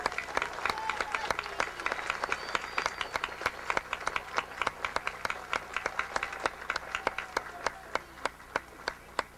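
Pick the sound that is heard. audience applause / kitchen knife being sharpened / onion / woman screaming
audience applause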